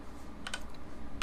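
A few quick keyboard and mouse clicks in Blender while a UV seam is marked, light and close, grouped near the middle and again at the very end of a short, quiet stretch.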